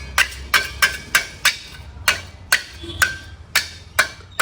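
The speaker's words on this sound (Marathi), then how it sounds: "तर हातोडा आणि छेने आणले, त्याच्याने काढून पाहू." Steel hammer striking a chisel to knock loose stuck-on decoration at home: about ten sharp, evenly spaced metallic blows roughly every half second, close and loud, with no talking.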